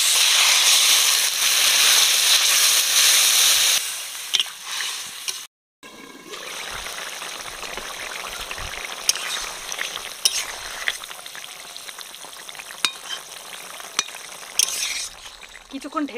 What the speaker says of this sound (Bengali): কুমড়ো আলু ভালো করে কষে নিয়েছি এবার জল দিয়ে দিচ্ছি সিদ্ধের জন্য